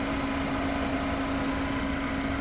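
A Mercedes W204 C300 engine idles steadily after starting, a close, even mid-pitched hum with a constant drone and slight vibration throughout.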